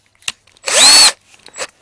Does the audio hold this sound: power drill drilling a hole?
yes